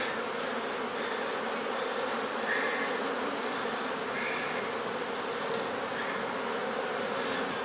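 Honey bees buzzing around an opened hive during an inspection, a dense continuous hum of many insects close by, with no voices.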